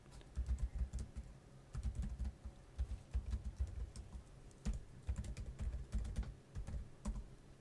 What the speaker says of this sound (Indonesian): saya akan mengaktifkan web server XAMPP terlebih dahulu ya, dengan cara mengetikkan perintah sebagai berikut.